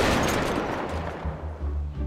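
Sniper rifle shot in the video game GTA 5: one loud blast at the very start, then a long rumbling echo that fades away, with a low droning hum under it.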